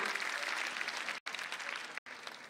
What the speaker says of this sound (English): Students, please give a huge round of applause for Mamta Nibharani Ma'am